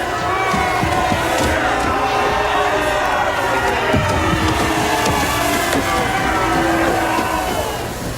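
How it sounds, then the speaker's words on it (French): A crowd at a wrestling-style introduction cheers and shouts continuously, a loud dense roar of voices holding steady throughout with whoops rising above it. "Applaudissez-le."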